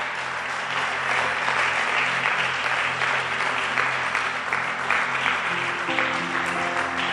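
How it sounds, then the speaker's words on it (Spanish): A church congregation claps loudly and steadily at a Sunday service, a thick, sustained wall of applause that fills the room and continues without a break, with faint voices underneath. "Le damos fuertes palmas al Señor."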